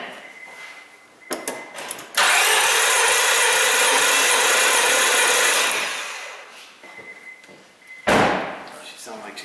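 A Honda Civic engine cranks on the starter for about four seconds during a compression test on its third cylinder, a loud, steady churning roar between quieter moments with a person talking.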